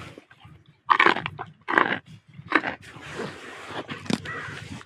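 A horse crunches a large treat in winter, several crisp bites and chewing sounds close up, with short pauses between crunches.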